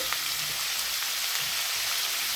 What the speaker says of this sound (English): let's wait for our onions to sweat a bit more